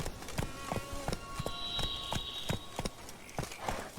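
Hooves of Geralt's horse Roach galloping in The Witcher 3: Wild Hunt, a quick, even clip-clop rhythm of sharp strikes close by, with tonal game sounds layered underneath and no talking.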